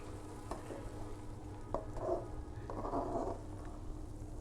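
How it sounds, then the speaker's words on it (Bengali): Polao rice grains frying in oil in a pan, a steady low sizzle with soft stirring scrapes and a few louder clinks, fairly faint and close, with no talking. "তারপর ওই তেলের মধ্যেই আমি পোলাও চালটা ভালো করে ভেজে নিলাম।"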